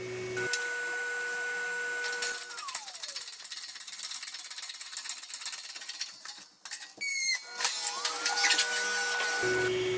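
A DIY press brake bends 1-inch flat bar with a whirring hydraulic or motor drive that winds down, then clanks and rattles, then spins back up, heard up close and alone.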